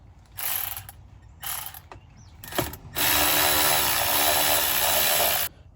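A Torx bit on a ratcheting driver backs screws out of the underside of a steering column shroud. A few short bursts of close mechanical clicking come first, then one long, steady stretch of ratcheting to the end.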